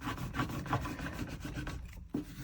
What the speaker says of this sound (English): I'm just going to hold a corner up, so I've got a corner to peel off the top layer